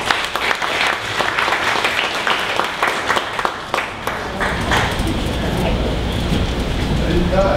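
Sustained applause from a crowd, steady clapping filling the room for several seconds with some voices mixed in.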